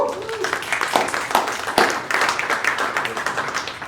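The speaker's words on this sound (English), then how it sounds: "Give that a round of applause." Audience at a talk on the business of art bursts into applause with a cheer, dense clapping filling the whole stretch at moderate loudness with some scattered voices mixed in.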